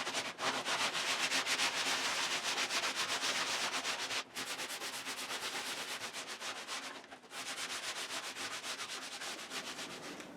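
Sandpaper rubs by hand along a plywood edge of a rabbit house, a steady close scratchy rasp with two brief breaks between strokes.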